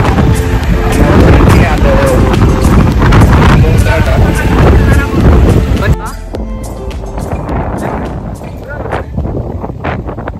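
Strong wind buffets an open outdoor location in the rain, roaring loudly and continuously for the first half, then easing to a gustier, quieter rush, with a voice speaking over it.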